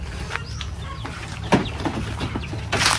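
Native chickens clucking at a village market in Glan, Sarangani, with scattered short clucks and calls over a steady low crowd-and-traffic hum, close to moderately near.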